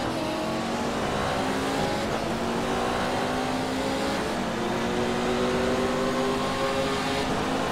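Porsche GTE race car in a sim racing game at Spa-Francorchamps, its engine droning loud and steady with rising and falling rev tones as it climbs, continuous throughout with no talk.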